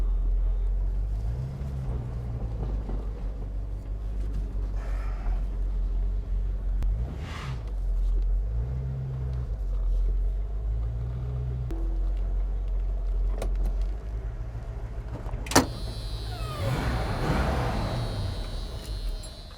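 Ford Mustang with a Mach 1 hood idling, a steady low engine rumble that dips and returns several times, followed by a brief click and a louder hissing burst near the end.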